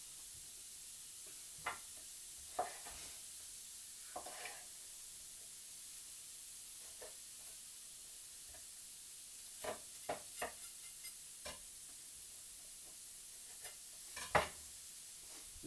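Cut-up peppers fry in a dry pan without oil, a faint steady sizzle with scattered soft scrapes and clicks as they are stirred, quiet and without talk.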